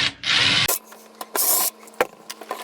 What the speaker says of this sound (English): I'm going to go ahead and take this vent out